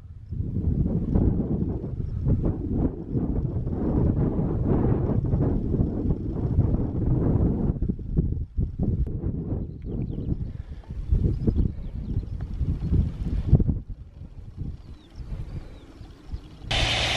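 Wind gusting across an exposed hillside near Great Gable on a coast to coast hike, a loud rumbling buffet on the microphone that surges and dips throughout, with no voices.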